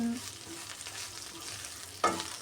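Curry leaves frying in a kadai give a steady soft sizzle, with faint spatula stirring scrapes and a sharper clank near the end.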